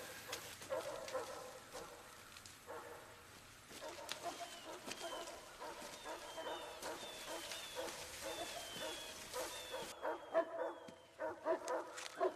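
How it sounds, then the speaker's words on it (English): Several dogs bark in repeated, irregular bursts that grow busier toward the end, heard at moderate distance over a steady outdoor background. "Dogs are barking."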